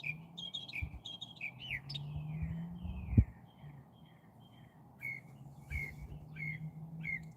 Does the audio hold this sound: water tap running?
no